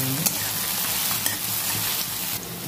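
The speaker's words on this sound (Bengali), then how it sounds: "পেঁয়াজ, লঙ্কা রসুনটা একটু ভেজে নেবো।" Onion, chili and chopped garlic frying in hot oil give a steady, close sizzle, with a light stirring scrape now and then and no voices.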